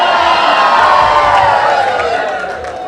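A studio audience at a live Gong Show-style event cheers and whoops loudly, a dense crowd roar sustained for a few seconds and tapering slightly at the end, with a voice or two mixed into the noise.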